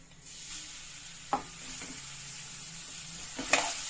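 Grated carrot frying in ghee in a kadai for jaggery carrot halwa, a faint steady sizzle with a couple of brief clinks of stirring, no talk.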